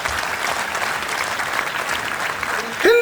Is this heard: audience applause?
yes